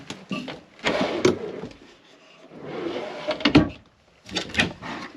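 Drawers in a Grand Design Imagine 2610ML RV bedroom slide open and shut in three separate bursts of sliding rumble and soft knocks, close by and with no one talking.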